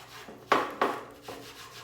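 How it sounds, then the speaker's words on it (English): Wet grade 3 steel wool scrubbing the surface of antique furniture, two strong rasping strokes close up followed by a fainter third, with no talking. "Got my grade 3 steel wool. Get it wet a little bit, and you just scrub the surface."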